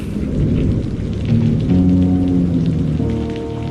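Steady rain falls heavily on a surface, a dense continuous patter with a low rumble underneath, loud and close throughout.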